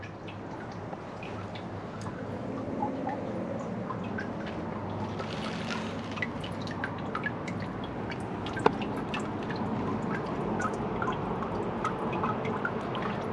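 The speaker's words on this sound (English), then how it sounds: "here is my Vitromex toilet flushing" A 1997 Vitromex slim-tank toilet flushes with a steady, fairly quiet wash of rushing and trickling water. The flow holds for about thirteen seconds and is heard on its own, with no voices over it.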